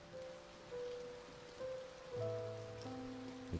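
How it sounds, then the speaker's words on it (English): Soft rain patters steadily in A Bird Story, a faint hiss of drops on a surface beneath gentle sustained musical tones. "Yep, it's raining."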